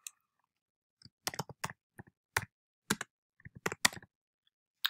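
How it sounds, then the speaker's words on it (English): Scattered keystrokes on a computer keyboard while typing in a text box, sparse close clicks in small clusters separated by silent gaps. "let me put a box in here where I can type."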